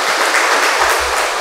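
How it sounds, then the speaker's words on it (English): A loud, warm round of applause from a large audience honoring a Catholic bishop, continuous and even throughout. "let us show our gratitude to Bishop Rene Mayugba with a warm round of applause"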